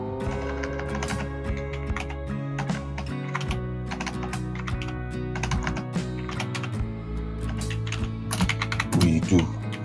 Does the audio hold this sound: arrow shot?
no